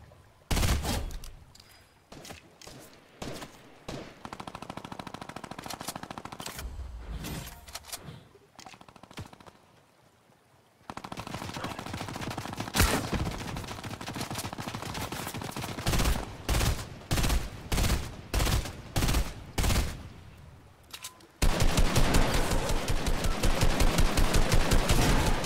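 Rapid video-game gunfire: long automatic bursts and clustered shots, some separated by short pauses, with one near-silent gap before a final sustained stretch of fire.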